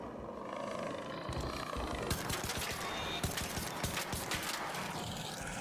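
Gunfire in the video game Arc Raiders, a rapid, dense burst of shots and crackling impacts that runs steadily through the whole moment, fairly close and busy, with mechanical clatter mixed in and no one speaking.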